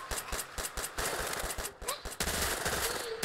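Rapid bursts of gunfire in the zombie shooter game Go Go Zombie rattle out in quick repeated volleys, loud and dense, with faint game effects between the shots.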